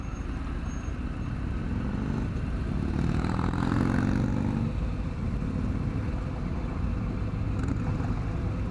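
A 2020 Harley-Davidson Fat Bob motorcycle engine rumbles steadily while riding, with a deep continuous drone and wind noise, rising slightly around the middle as it works through engine braking.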